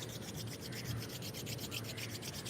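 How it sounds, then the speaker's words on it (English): Palms rubbing briskly together during a quiet yoga session, a soft, continuous rhythmic swishing friction close to the microphone. "Rub the palms together."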